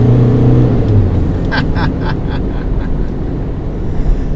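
A 2022 Mazda BT-50 bakkie with a 3-litre engine accelerates, a loud continuous low engine drone heard from inside the cab with a brief rising rev in the middle.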